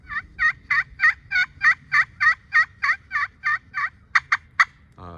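Rapid series of yelping turkey calls from a slate pot call with a striker, about fifteen evenly spaced notes, clear and close, ending with a short scrape.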